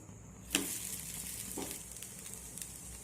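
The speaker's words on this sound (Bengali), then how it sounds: "এইভাবে পরোটা ভাজলে অল্প তেলেই ভাজা হয়ে যাবে।" A paratha made with egg and flour fries in a little oil in a frying pan, giving a steady close sizzle that opens with a sharp crackle burst, with a few spatula scrapes later.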